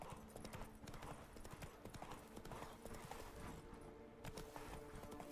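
Horse hooves clip-clop steadily in The Witcher 3: Wild Hunt Blood & Wine video game, a continuous rhythmic trot with game ambience, fairly faint and even throughout the few seconds.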